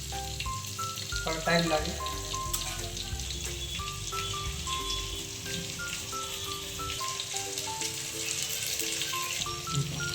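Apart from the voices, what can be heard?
onions frying in a pan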